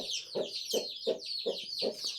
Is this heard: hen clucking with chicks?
yes